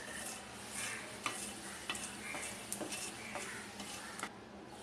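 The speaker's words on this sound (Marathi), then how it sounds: "वेलची भाजून झाली आहे" Cardamom dry roasts in a pan for Maharashtrian garam masala, with soft steady crackle and repeated light stirring clicks and scrapes of a spoon, close and fairly quiet, with no voices.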